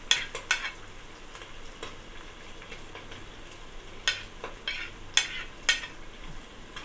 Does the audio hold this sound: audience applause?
no